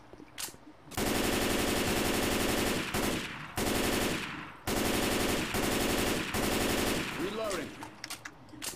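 Sustained bursts of automatic machine gun fire in the zombie shooter Left 4 Dead 2, three long loud volleys separated by short pauses, with a player's voice briefly heard between them.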